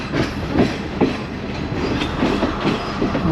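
A second-class train in Sri Lanka rolls along the rails with a steady, close rumble and a rhythmic clickety-clack of wheels over the joints.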